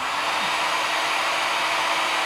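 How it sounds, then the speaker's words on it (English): A HUEPAR HG01 heat gun blower runs steadily and loudly throughout, giving a constant broadband airy rush with no pauses or talk. "turn it on like so. Hopefully it isn't too loud. So I'm going to turn the blower down."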